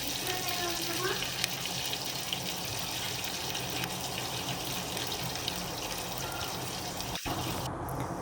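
Sliced onions fry in oil for sambar, making a steady, even sizzle and hiss that stays constant and close throughout.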